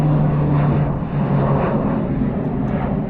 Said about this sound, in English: Somebody taking off. Oh, that's actually cool. It's a military plane.